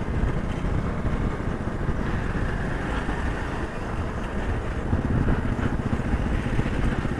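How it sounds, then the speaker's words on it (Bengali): Motorbike ride along a road through hilly countryside in monsoon weather, engine drone steady and continuous throughout with heavy wind rush buffeting the microphone, no talk. "আমরা বাইক চালিয়ে যাচ্ছি।"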